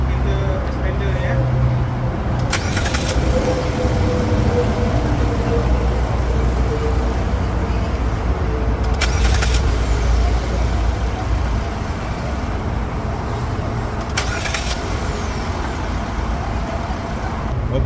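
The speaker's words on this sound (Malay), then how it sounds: "Kita akan start engine kita expander ni" A Mitsubishi Xpander 1.5 engine runs on a Nanexx battery, a steady low idle rumble heard close by, broken by a few sharp clicks or knocks.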